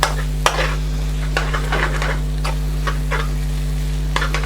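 Soy sauce cooking off in a loud, close, sizzling balti pan with mixed ingredients, a constant frying hiss broken by stirring scrapes and a few metallic clanks from the utensil.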